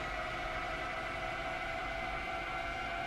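A continuous, steady wailing tone like an air raid siren comes from a train in Train Sim World. It holds loud and unbroken over low rumbling machinery.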